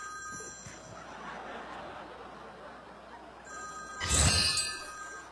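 A telephone rings with steady, high electronic tones at a roadside food stall, while a brief chuckle and a burst of close handling noise break in near the end.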